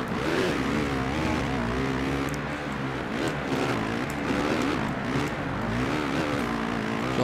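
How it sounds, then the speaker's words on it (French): A loud, continuous engine drone in the video game MXGP rises and falls in pitch like a racing motocross bike revving hard, sustained throughout with no talking. "J'entends la moto de Salle, j'ai l'impression qu'il est deuxième."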